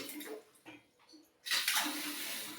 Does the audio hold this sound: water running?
yes